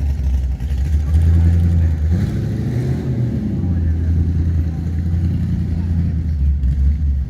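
A 1968 Chevelle restomod rumbles with a deep, loud idle and a brief swell of revs near the start, steady and close, while people talk over it.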